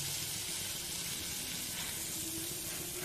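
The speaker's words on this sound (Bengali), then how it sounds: "ভাজি দিয়ে এবার আমি এই পাওটাকে খুব ভালো করে দুপিস সেকে নেব" Pav bread toasting in pav bhaji on a hot pan, a steady soft sizzle and hiss running throughout with no pauses, at low volume and with no voices.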